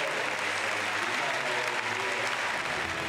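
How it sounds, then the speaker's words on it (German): Loud, sustained applause and cheering from a large crowd at an international equestrian dressage Grand Prix Freestyle show in Aachen, a steady dense roar that fills the whole stretch without letup. "mit diesem Jubel ist sie die Gewinnerin der Herzen."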